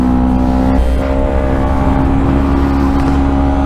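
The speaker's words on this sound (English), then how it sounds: "I showed this R3 some love, man, so I'm gonna take her out for a ride" A Yamaha R3 motorcycle with an M4 Street Slayer exhaust runs close by, a loud steady buzzing engine drone that swells slightly as it revs, with no talking.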